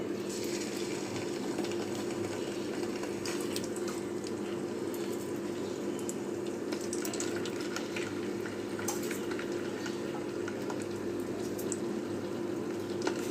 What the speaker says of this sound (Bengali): এখন আমি চিকেনগুলো ভেজে নেব।